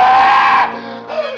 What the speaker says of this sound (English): The scream came at last, for Jafe Morner had seen the devil.